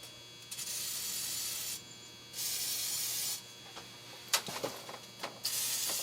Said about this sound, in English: I just use this liquid wrench